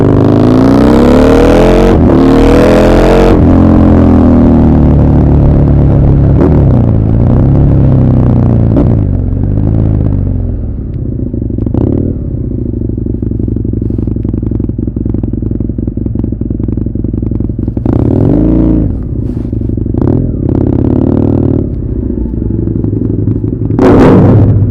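Motorcycle with an Akrapovic exhaust and no baffle, loud and close, revving repeatedly in sharp blips over a steady rumbling idle, with crackles between revs.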